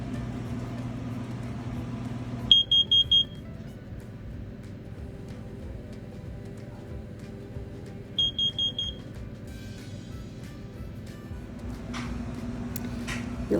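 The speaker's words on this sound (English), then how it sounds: "This is how you test your carbon monoxide detector." Carbon monoxide detector sounding its alarm during a household test: two short bursts of four sharp, high electronic beeps each, the second burst about five seconds after the first, over a steady low room hum.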